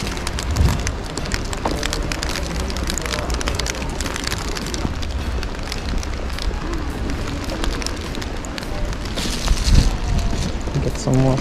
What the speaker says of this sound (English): the rain is really picking up now.